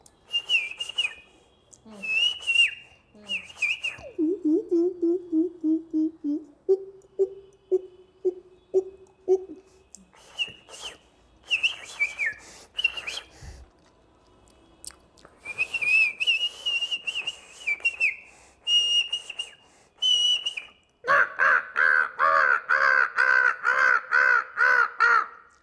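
A traditional Bengali mimicry artist (horbola) imitates birds by voice alone, giving close, loud crow caws and sharp whistled calls in repeated bursts with short pauses, ending in a long run of rapid whistled notes.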